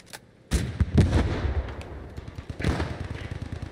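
Dense, booming gunfire from the FG42 rifle in the Post Scriptum video game, with a loud burst of rapid shots and echoing battlefield reports and explosions layered underneath.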